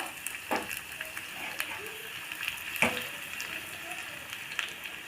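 Steady sizzling of chopped garlic frying in hot oil, close by, with a few soft stirring scrapes and crackles.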